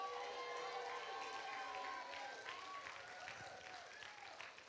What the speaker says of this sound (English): Can we just give her like a really loud applause